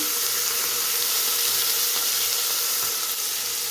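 Green peas sizzle in hot oil inside a pressure cooker, after sliced onions were fried, making a steady, fairly loud hiss of frying with no voices.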